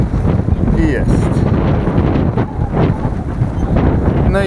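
Steady, loud headwind buffeting the microphone while cycling, a broad low rumble that never lets up across the whole stretch, with faint voices beneath it.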